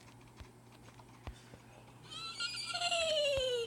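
A horse in the video game Minecraft gives a loud, close whinny that rises and then slides downward, preceded by a few scattered clicks and game noises.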